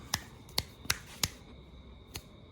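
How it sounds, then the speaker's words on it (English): Finger snaps in a quiet garage under construction: four crisp, evenly spaced snaps close by, then a fifth softer one after a short pause, with a faint hum beneath. "snap my fingers"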